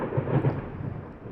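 A thunderstorm in the horror video game Layers of Fear, with thunder rolling as a low rumble and rain hissing beneath it, moderately loud with no voices.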